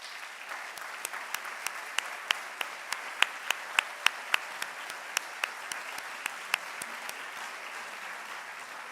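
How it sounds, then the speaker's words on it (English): Audience at a school athletic awards ceremony applauds steadily, with a dense wash of clapping and some sharper individual claps standing out, moderately distant, continuing for several seconds. "If all of you will stand up for a round of applause."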